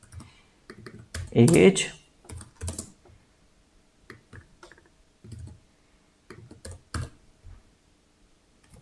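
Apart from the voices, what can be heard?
typing code on computer keyboard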